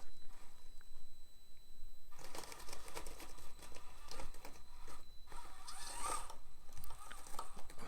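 A CR18P Evo RC crawler with a 130 motor creeps along slowly, giving a faint whir that turns into a louder, buzzy gear-and-motor grind as it climbs. It stops briefly partway through and carries on, close by with no talk.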